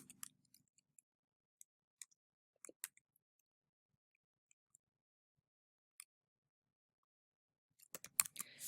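Sparse, faint clicks of someone typing on a computer keyboard: isolated keystrokes spaced irregularly through near silence, then a quick cluster of keys near the end.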